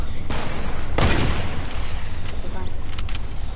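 Rapid bursts of rifle gunfire in a multiplayer shooter game, loud sharp cracks with a heavy boom near the one-second mark amid constant game noise and background voices.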